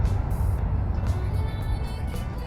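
A 1959 Ford F100 pickup drives out at an outdoor car show, its engine giving a steady low rumble over broad crowd and outdoor noise, with a few brief hissy bursts.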